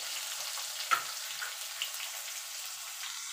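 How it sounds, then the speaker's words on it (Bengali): Potatoes frying in a little hot oil with dried red chillies and five-spice, a soft, steady sizzle with faint crackles and a small pop near the start, no talking. "আলুটা একটু লাল লাল করে ভেজে নেব।"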